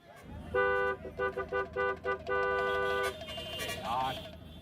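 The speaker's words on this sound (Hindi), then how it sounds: "ये जो तुम धड़ाधड़ हॉर्न बजा रहे हो" A car horn honks repeatedly in short rhythmic bursts, then one long blast, loud and close, over engine and road noise.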